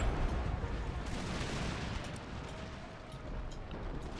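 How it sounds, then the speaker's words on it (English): Demi-cannon artillery fires on a battlefield in the game Empire: Total War, a dense continuous rumble of booming shots with sharp cracks layered over it, loud and unbroken throughout. "The demi-cannon shooting."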